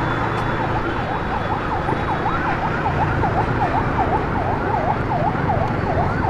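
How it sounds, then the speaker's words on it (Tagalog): Ambulance siren wailing in a steady repeating yelp over loud road traffic, heard from a vehicle on a Manila to Masbate road trip, continuous and fairly close throughout. "Ambulansya."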